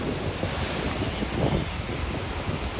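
Sea waves break on the shore at Diu, a loud, continuous wash of surf with gusty wind noise buffeting the microphone.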